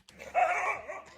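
A single short dog bark or yelp, fairly close and clear, rising quickly and fading within about a second with no talking over it.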